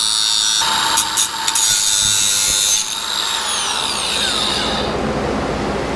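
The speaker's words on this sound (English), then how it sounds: "I'm just going to use the cutoff wheel and take this flat" A cutoff wheel grinds a part flat for a motorcycle headlight conversion, a loud, close, high-pitched whine with brief bites into the metal that spins down and fades over the last second or two.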